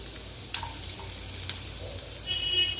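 Chopped garlic fries in melted butter in a pan, giving a soft, steady sizzle close by with a few faint clinks and stirring noises over the crackle.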